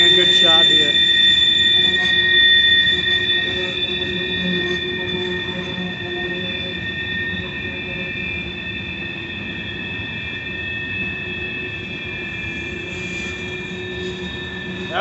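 A train rolls steadily past nearby on the Horseshoe Curve at Altoona, its wheels squealing in high sustained tones over a continuous rumble that slowly fades a little.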